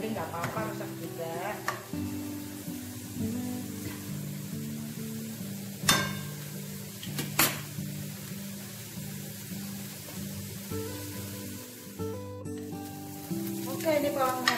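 Shallots fry in a pan with a steady sizzle and occasional stirring clinks, close by, while background music plays throughout.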